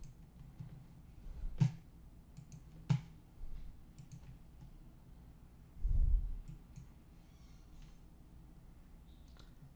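Mouse clicks during a demo of the eManage software, a few sharp isolated clicks spaced a second or more apart, with a softer thump and light rustle between them in an otherwise quiet room.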